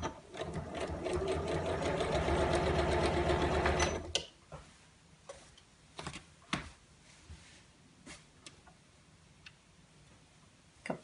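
Sewing machine stitching an appliqué lined shopping tote bag, a steady close whirring run for about four seconds that stops, followed by scattered soft ticks and handling clicks.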